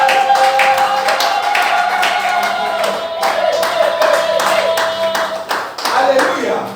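A church congregation claps together in steady rhythmic beats during lively worship, loud and continuous, with music and singing voices blended underneath.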